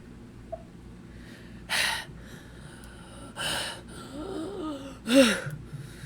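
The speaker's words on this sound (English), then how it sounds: "I huff and wheeze, trying to catch my breath as I hold on to the satchel for dear life" A person gasping and wheezing for breath after nearly drowning: three loud, ragged inhalations about a second and a half apart, the last with a strained, rasping wheeze, over a quiet forest-night background.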